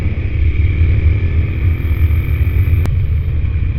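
A motorcycle engine idles with a steady, low, rumbling burble from its exhaust, loud and close, constant throughout, during a trail ride.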